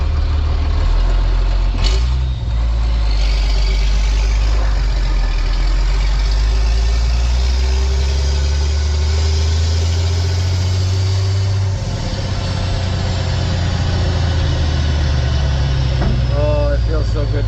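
A blue truck's engine drones loud and steady while driving, with deep low rumble and occasional shifts in pitch, someone talking over it at times.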